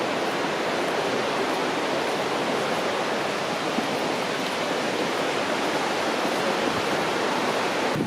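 A waterfall beside a lake pours in a loud, steady, close roar of rushing water that holds constant throughout, with no voices.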